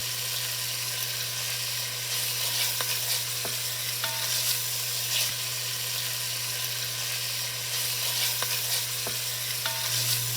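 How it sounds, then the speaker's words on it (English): Steady crackling sizzle of bacon frying and rendering its fat in a Dutch oven, continuous and close, with a low constant hum underneath and occasional faint clicks. "It's time to start frying off this bacon and getting some of that fat rendered down."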